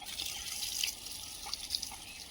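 Garden plants get their morning watering: a steady, soft trickle and splash of water with a few scattered drips, close by and with no voices.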